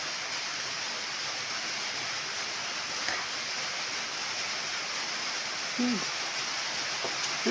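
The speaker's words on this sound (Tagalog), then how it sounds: "Lakas na naman ang ulan." Heavy rain pours down steadily and loudly, a dense, even hiss that fills the whole stretch with a few faint bumps and knocks late on.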